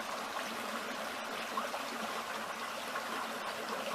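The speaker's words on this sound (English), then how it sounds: "Water flowing through here." A woodland stream flows through a Florida park after a rainy season, its steady rushing trickle holding an even, continuous level from start to finish with no voices.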